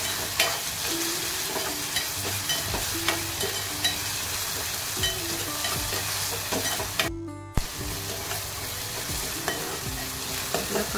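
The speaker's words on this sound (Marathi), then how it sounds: "त्यानंतर आपल्याला कढीपत्ता टाकायचा आहे। 2-3 मिनिट मस्त परतवून घेऊया।" Curry leaves sautéing with chopped onion, tomato and garlic in a pan, a steady frying sizzle broken by repeated scrapes and stirs of a spoon, with one brief pause partway through.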